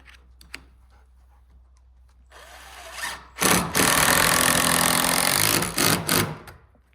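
A power drill drives screws while a door is installed on a tiny house build. After a quiet stretch with faint handling noises, a loud, close, steady whirring burst runs for about three seconds, then tapers off in brief pulses.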